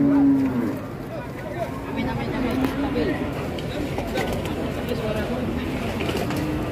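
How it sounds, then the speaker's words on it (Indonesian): Cattle at the Jatirogo cattle market, with scattered lowing and animal sounds amid a busy crowd murmur and nearby talking throughout. "Ini ada sapi galak di sebelah kanan saya ya, kita mengamankan diri."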